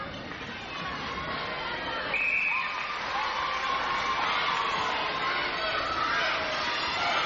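A big crowd at a 1998 netball grand final roars steadily, with the Adelaide Thunderbirds cheer squad chanting and cheering loudly throughout, and a commentator speaking over it.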